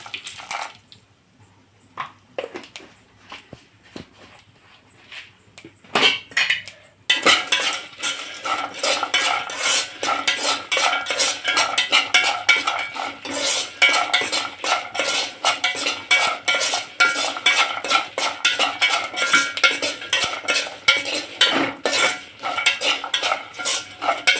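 Cumin seeds roasting in a pan for a tamarind leaf chutney, stirred with a metal spoon: quiet sparse scraping at first, then steady loud crackling and rapid clinking scrapes continuing to the end.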